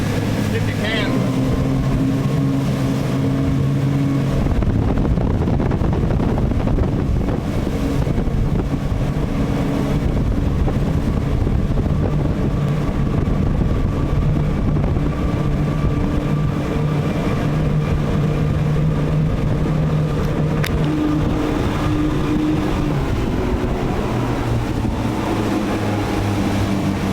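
A hydrofoil catamaran's engine drones steadily beneath rushing wind and water noise throughout, with a person talking at times over the hum.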